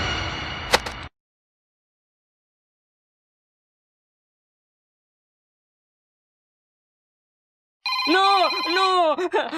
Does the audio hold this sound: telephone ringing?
yes